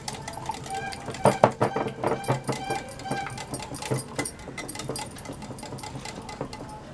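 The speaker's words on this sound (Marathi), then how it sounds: "एग योक मी हातानेच ब्लेंड करून घेणार आहे." Egg yolk whisked by hand in a bowl, a fast rhythmic run of close clicking and tapping strokes, louder and busier at first, then settling into a lighter, even beat.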